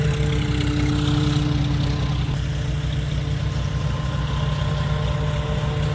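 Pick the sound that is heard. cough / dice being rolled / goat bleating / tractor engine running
tractor engine running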